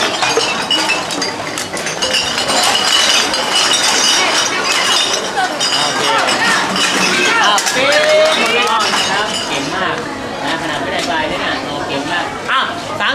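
Glass bottles clinking and chinking as they are sorted by type at a school recycling activity, a steady jumble of knocks under a busy crowd of chatting voices.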